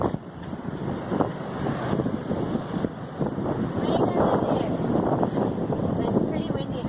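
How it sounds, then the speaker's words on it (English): Gusty wind buffets the microphone in rough, uneven bursts on a rocky intertidal shore, with a person speaking faintly underneath. "It's pretty windy"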